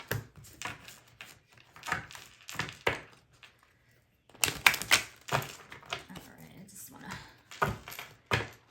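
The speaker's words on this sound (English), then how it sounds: "Let's give the cards a good shuffle, Leo." Crisp riffling and snapping bursts of cards being shuffled, several rounds with pauses between, while someone talks.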